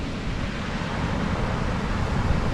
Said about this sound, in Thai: น้ำตกดี